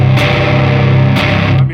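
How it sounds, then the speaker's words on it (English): Heavily distorted electric guitar chords at full volume ring out loud and sustained, with a brief re-strike partway through and a fade at the end. "Add a little distortion to that."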